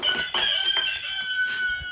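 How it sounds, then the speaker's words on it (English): A rooster crows nearby, a bright sustained call with clear harmonics rising and falling over about two seconds, with no talking. "That's a rooster."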